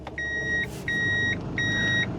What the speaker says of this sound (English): when you go into reverse, it actually beeps like like a truck